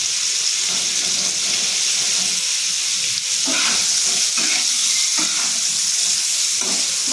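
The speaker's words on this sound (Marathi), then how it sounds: "मसाल्याची छान कोटिंग बसायला पाहिजे असं आपण हे फ्राय करून घेऊया" Paneer frying in hot oil on a tawa, a loud continuous sizzle close up, with occasional scraping stirs breaking through.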